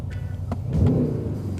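A Mercedes-Benz AMG S63 E Performance engine in sport mode rumbles low and steady, swelling briefly louder in the middle as it revs, with faint mechanical clicks on top.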